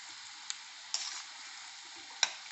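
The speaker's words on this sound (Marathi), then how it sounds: "आणि सतत असं मिक्स करत त्यांना तळून घ्यायचं आहे" Chili and onion bhaji fry in hot oil, giving a steady close sizzle broken by a few sharp clicks as the fritters are stirred.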